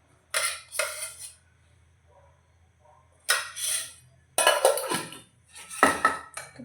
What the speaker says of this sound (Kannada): ತುಪ್ಪ ಹಾಕ್ಕೊಂಡು ಚೆನ್ನಾಗಿ ಮಿಕ್ಸ್ ಮಾಡ್ಕೋಬೇಕು.